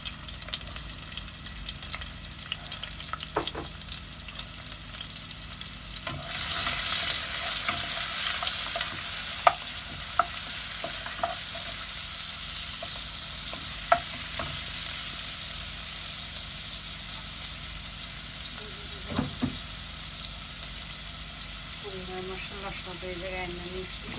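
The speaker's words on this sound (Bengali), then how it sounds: "মরিচটা ভাজা হয়ে গেছে" Chillies and onion fry in oil in a pan, with a continuous soft sizzle, occasional stirring scrapes and a brief clink, under faint background noise.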